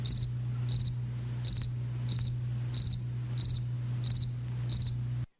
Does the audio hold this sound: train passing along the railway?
no